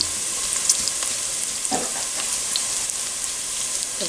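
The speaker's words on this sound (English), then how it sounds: "Ito, antayin natin para maluto ang brown ang onion, bawang at saka sibuyas." Onion and garlic frying in a pan for pork caldereta, a steady, close sizzle with fine crackling throughout and a few brief louder pops, no voices.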